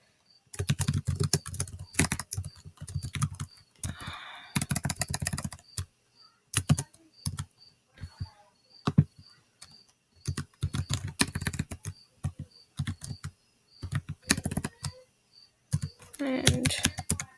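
Typing on a computer keyboard, close and fairly loud, in repeated bursts of rapid key clicks separated by short pauses, with a faint steady high whine underneath and occasional soft talking.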